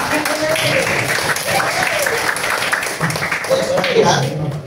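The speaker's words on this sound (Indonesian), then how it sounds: "tepuk tangan untuk kawan-kawan" Students in a madrasah classroom keep up a steady, dense round of applause for classmates, with voices carrying over the clapping throughout.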